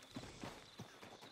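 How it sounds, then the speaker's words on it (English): Horse hooves clip-clopping at a steady walking rhythm in Red Dead Redemption 2, four or five clear hoofbeats close by over a low ambient background. "That's a strong-looking horse."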